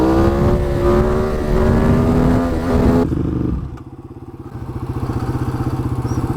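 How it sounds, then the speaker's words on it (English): A Honda Rebel 500 motorcycle's pushrod engine runs close by, revving with a rising, buzzing note, then suddenly drops to a lower, rhythmic putter. "Look at the push rod engine."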